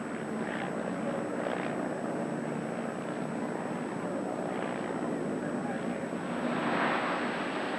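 A de Havilland Fox Moth biplane, still flying commercial joyrides, drones steadily as a continuous propeller engine hum, moderately distant and even in level, with a voice speaking over it.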